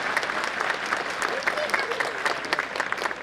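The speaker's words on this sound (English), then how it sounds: "A big round of applause for all the class 1 students" Audience applause for class 1 students at a school annual function, lively, uneven clapping from a crowd, close and fairly loud, with some voices mixed into the noise.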